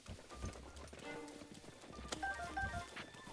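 Horse hooves clip-clop in Zelda: Breath of the Wild on Switch 2, a quick run of galloping steps with an occasional snort, at moderate loudness with game sounds around it.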